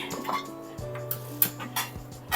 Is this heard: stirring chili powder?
yes